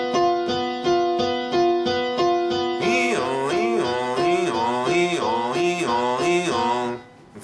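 A piano sounds a tritone interval, first as repeated evenly spaced struck notes, then as an alternating two-note pattern that rises and falls like a siren, sustained and close, with no voices.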